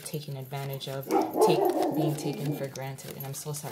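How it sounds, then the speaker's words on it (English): A dog barks outside, its short yips and barks sounding under a woman's continuous close speech, with a brief louder burst in the middle. "that's my dog outside. I don't know what he's barking at."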